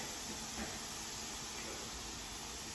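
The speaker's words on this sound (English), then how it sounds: "Oh, all right, so we've got the boiling water. We're gonna pour it in here now." Boiling water pours into a container for silver polishing with aluminum foil and baking soda, making a soft, steady hissing rush. It is fairly faint and has no talk over it.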